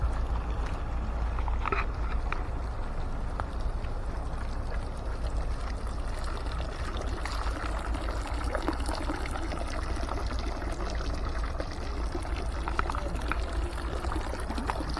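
Water trickles and pours steadily into a canal, a continuous close splashing and dribbling wash with no pauses and no voices.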